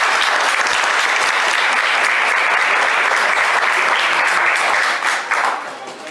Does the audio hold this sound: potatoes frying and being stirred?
no